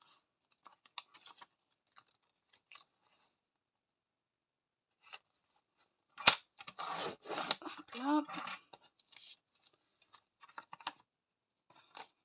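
Scissors cut paper for a traveler's notebook envelope, a short burst of close, crisp snipping and rustling, with brief quiet ticks before and after.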